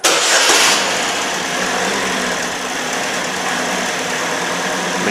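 A Chevy Malibu with a 2.4 engine, running without its mass airflow sensor and showing timing fault codes, cranks briefly and catches, then settles into a loud, steady, close-up idle.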